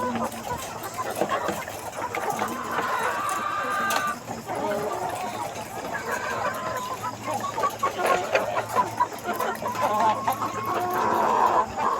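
Many caged chickens in a poultry house cluck and squawk together in a dense, continuous chorus, with an occasional rooster crow rising above the steady flock noise.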